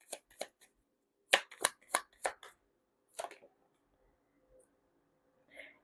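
Tarot cards shuffled by hand during a card reading, heard as a string of crisp riffling bursts near the mic, with quieter gaps between rounds and a soft voice at the end.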